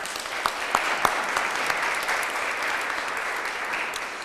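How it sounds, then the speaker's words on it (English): Steady audience applause at a sister city signing ceremony between Milwaukee and Zadar, Croatia, a dense wash of clapping with a few sharper claps standing out early, continuing evenly at moderate volume throughout. "Can we give him a round of applause, please?"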